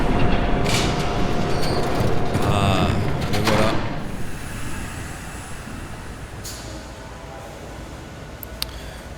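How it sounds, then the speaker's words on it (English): A train rumbles past in the Batman Telltale video game, a loud continuous roar with metallic squeal that fades over several seconds into a quieter background. "There's a train coming. Take cover."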